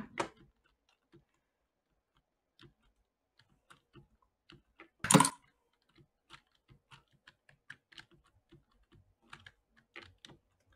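Typing on a computer keyboard bought from Best Buy, irregular light key clicks scattered across the span with one louder clattering burst midway, close and otherwise quiet.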